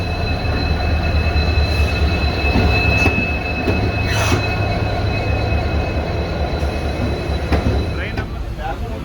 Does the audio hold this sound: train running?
yes